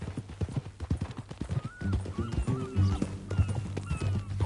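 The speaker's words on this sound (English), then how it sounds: "That new horse?" Horse hooves clip-clop in a steady rhythm on a ranch, fairly close and loud, with an occasional whinny and other low background noise mixed in.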